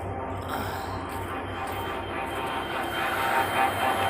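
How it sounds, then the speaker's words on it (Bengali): Train noise at a railway station, a continuous low rolling rumble of rail cars at moderate distance, swelling slightly toward the end. "স্টেশনের রেলের আওয়াজে কিচ্ছু শুনি না।"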